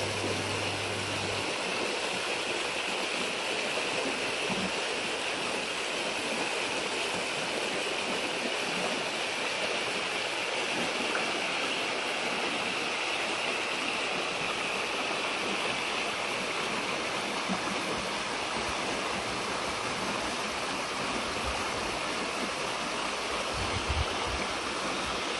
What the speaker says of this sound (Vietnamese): suối quanh năm chảy róc rách